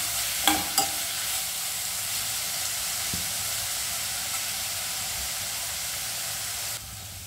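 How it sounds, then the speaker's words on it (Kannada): Vegetables sizzle in hot oil tempering for shavige bath, a continuous hiss with a couple of utensil clicks near the start, steady and close with no talking. "ಒಗ್ಗರಣೆಗೆ ಏನೇನು ಹಾಕ್ಕೊಂಡು ಅದೆಲ್ಲ ಹಾಕ್ಕೊಂಡ್ಮೇಲೆ ತರಕಾರಿ ಹಾಕ್ಕೊಳ್ಳೋದು ಅಷ್ಟೇ."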